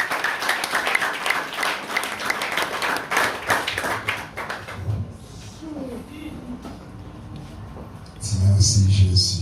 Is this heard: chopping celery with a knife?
no